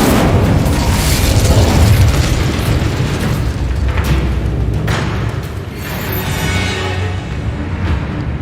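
An Incendio fire spell roars in Hogwarts Legacy, a loud, sustained blast of rumbling, crackling fire that stays dense and close before easing slightly toward the end.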